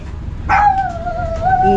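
A chihuahua at a market gives a single close, sharp yip that turns into a drawn-out whining bark, with faint chatter and street noise in the background.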